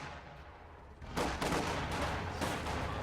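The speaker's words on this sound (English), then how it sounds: "Contact! Small arms fire!" Small arms gunfire in the Company of Heroes 2 strategy game erupts suddenly after a quiet moment, a dense, continuous crackle of rifle and machine gun shots mixed with distant battle noise.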